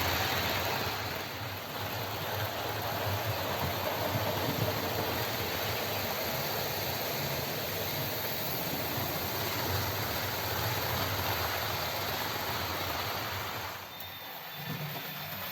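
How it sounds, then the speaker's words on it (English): A small motorized model track-cleaning train runs steadily, a continuous whirring rumble with broadband hiss that holds for most of the stretch before dipping briefly near the end. "Driving my cleaner train from the bottom to the very top set."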